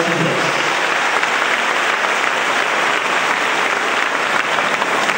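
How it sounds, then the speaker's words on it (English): A church concert audience applauds a children's choir and grand chorale, dense sustained clapping from many hands filling the space, loud and even throughout. "Muli palakpakan po natin ang piling ng Diyos."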